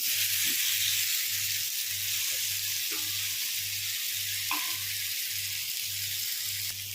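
Fried potatoes tossed with cumin in a pan for jeera aloo give off a steady, close sizzle with occasional stirring scrapes, over a low rhythmic pulsing hum.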